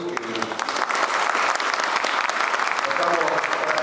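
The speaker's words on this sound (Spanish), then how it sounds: "quiero pedir un aplauso para la gente que trabaja en la MUNI" Audience applause at a neighbourhood property-title regularisation event, a dense, sustained patter of many hands clapping that keeps up throughout, with faint voices in the crowd.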